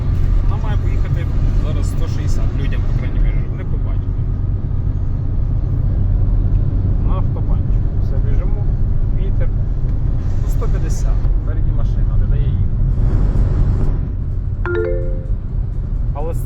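A car engine rumbles steadily and loudly throughout, with people talking over the road noise.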